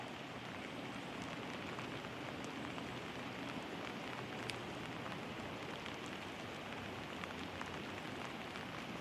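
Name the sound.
rain falling while fishing from a boat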